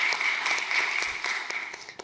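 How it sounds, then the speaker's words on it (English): Applause from a panel-discussion audience for a speaker who has just finished, steady clapping across the clip with a sustained tonal hum running beneath it. "applause for Kate"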